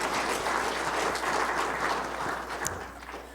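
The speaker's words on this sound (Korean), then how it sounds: "박수로 환영합니다" A congregation applauds to welcome people at a Sunday church service, steady and fairly loud clapping from many hands that holds for a few seconds before easing off slightly.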